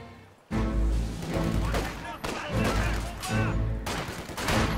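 Gunfire in the Battle of Rostov from Company of Heroes 2: loud, dense bursts of rifle and machine-gun fire with heavy booms, rolling in waves after a sudden onset, crowding the scene continuously.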